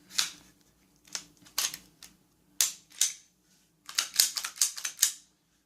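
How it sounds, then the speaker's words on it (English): Pistol slide being slid back onto the frame during reassembly after lubrication, a series of sharp metallic clicks and scrapes, some single and some in quick clusters, close and clear against a quiet background. "Sliding it back on, getting the gun back together."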